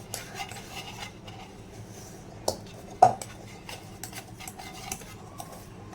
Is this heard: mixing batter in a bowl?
yes